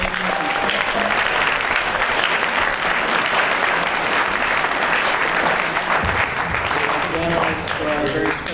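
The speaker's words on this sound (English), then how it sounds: "Just another round of applause for our wonderful student moderators" A school assembly audience at Deering High School gives a sustained round of applause for student moderators, dense clapping filling the room steadily throughout, with a voice speaking over it near the end.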